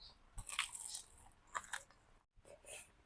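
A crispy fried pork chop with gravy is bitten and chewed up close, giving several soft crunches spread out over a few seconds at low volume.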